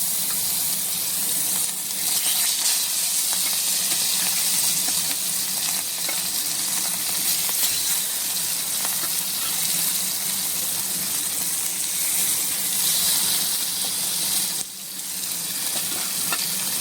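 Fish frying in hot oil in a pan, a loud, continuous close sizzle that holds steady throughout, with a short dip and a few scrapes near the end.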